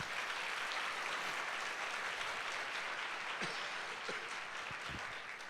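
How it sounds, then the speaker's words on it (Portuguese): Sunday worship congregation applauding together in a church, a faint, distant, continuous wash of clapping with a few low thumps near the end. "Então dá um aplauso a Jesus aí."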